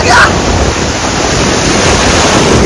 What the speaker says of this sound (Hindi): ये देखो क्या खतरनाक लहरें आ रही हैं